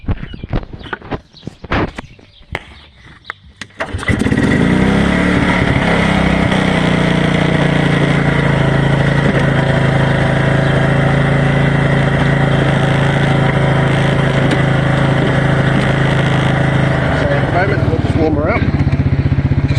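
A cold 2001 Suzuki King Quad 300 ATV engine is started after some brief handling noises and then idles steadily, loud and close, with a constant low drone until the end.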